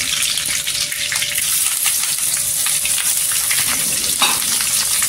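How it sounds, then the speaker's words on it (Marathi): Sliced onions sizzling steadily in hot oil with curry leaves in a pan, a continuous close, bright frying hiss with small crackles and a brief stir near the end. "कांदा इथे छान असा गोल्डन कलर करून घ्यायचा।"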